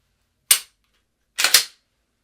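Three sharp gunshots ring out in quick succession: one single crack, a short pause, then a fast close pair, loud and alone against silence during rapid multi-target shooting practice.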